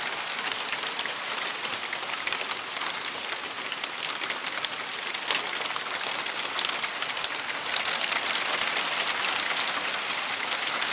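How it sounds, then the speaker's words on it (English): Hail falls outdoors in a dense, steady patter of countless small impacts, a constant hiss-like rattle that swells slightly near the end, with no one talking. "That is hail."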